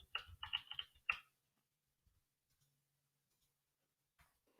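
Quick bursts of keystrokes on a computer keyboard are heard up close, a short run of clicks followed by near silence with a single faint tap later.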